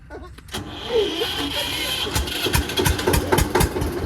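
A car's self-starter cranks and the engine catches on a village farm track, followed by a rough idle with sharp knocks and clatter, close by, with people talking over it.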